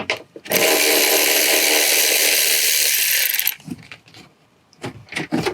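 A Milwaukee power impact tool spins off a rear suspension nut on a 2003-2011 Honda Element, a loud continuous whirring burst lasting about three seconds, followed by a few short clicks and clanks of parts.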